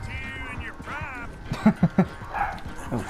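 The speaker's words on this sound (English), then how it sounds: "Sorry about my dogs barking in the background." Dogs bark in the background of a home recording, giving several short, loud yips in quick succession over game sound and faint talk.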